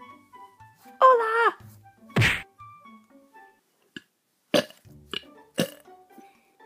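A wet, croaking burp lands near the start, followed by a second gurgling belch and a few sharp thwacks and knocks in a quiet room, each sound short and isolated with silence between.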